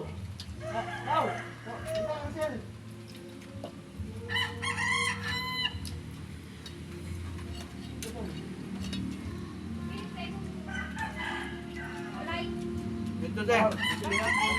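A rooster crows several times, loud and close, among clucking fowl, while people talk in the background.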